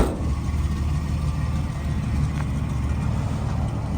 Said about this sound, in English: Idling so much better